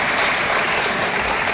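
Steady, dense applause from a large audience at a chemical engineering conference inauguration, loud and continuous throughout, with no gaps or talk over it.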